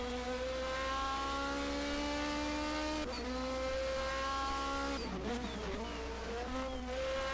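1980 DRM Division 2 race cars at the ADAC-Westfalen-Pokal race brake and corner, engines droning steadily and loud at close range, with a sharp shift and downshift midway.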